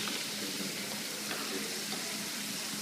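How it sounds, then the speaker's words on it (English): Thin-cut potatoes fry in hot oil with extra oil added, giving a steady, even hiss and crackle of bubbling that holds at a constant level, with no talk over it. "the thinner potatoes are bubbling faster just because I added a little more extra oil after"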